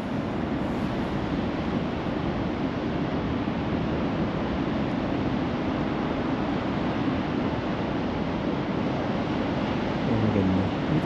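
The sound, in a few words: ocean waves at surf beach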